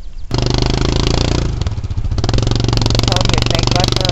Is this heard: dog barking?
no